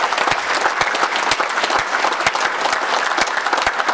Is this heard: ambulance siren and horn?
no